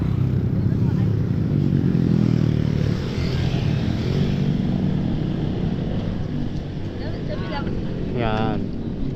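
A big bike motorcycle engine rumbles loudly and continuously up close, easing slightly midway, while voices talk briefly near the end.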